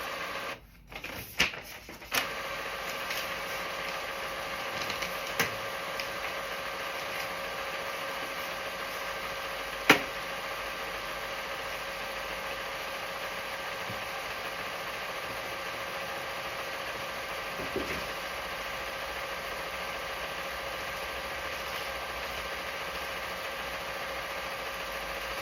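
An Epson F170 sublimation printer runs its initialization cycle with a steady mechanical hum and drone, a few clicks and clunks near the start and a sharp knock partway through, heard close up with no talk.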